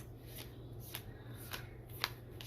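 Tarot cards being shuffled by hand, a quiet, close series of crisp riffling snaps about every half second with one sharper click, and no voices.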